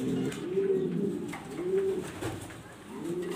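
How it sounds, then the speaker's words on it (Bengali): A female pigeon coos close by in three slow, low, rolling phrases, steady and distinct over a light background hum. "মাদি কবুতরটা এখন একটু দেখাবো"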